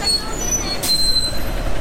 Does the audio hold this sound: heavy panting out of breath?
no